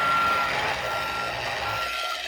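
Reversing beeps from a toy ride-on car: a steady, fairly loud electronic tone repeating close by, with no talking.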